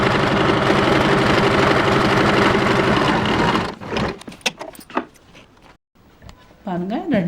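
An electric sewing machine stitches fabric while an inskirt is sewn, running steadily and close for a few seconds before stopping, followed by quieter handling noises and a voice.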